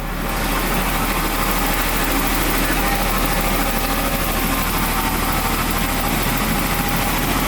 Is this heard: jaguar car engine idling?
yes